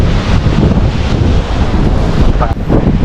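Cold wind buffeting hard at an open viewpoint by Mukane Dam near Nashik, a loud, close, gusting rumble across the microphone with no clear voices.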